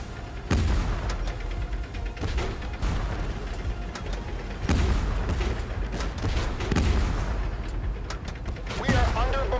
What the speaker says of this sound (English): We are under bombardment!